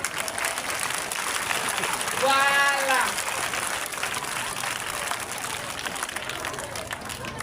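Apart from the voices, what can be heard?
audience applauding at a ceremony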